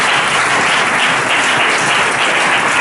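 A church congregation at a Pentecost service claps loudly and continuously, a dense, even wash of applause filling the space from start to finish.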